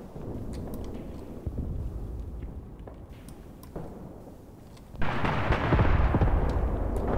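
Mortar strike explosions in the WWII tactics game Graviteam Tactics, a river bridgehead battle: a low rumbling barrage of distant blasts throughout, swelling into a louder, denser burst of impacts near the end.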